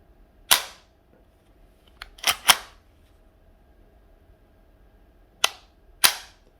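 Sharp, close mechanical snaps from trigger pulls on a PP-2000 gas blowback airsoft SMG, five crisp clicks in two clusters with quiet pauses between, no talking.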